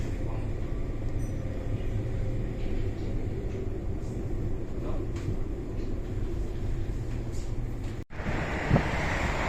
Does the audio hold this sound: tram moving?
yes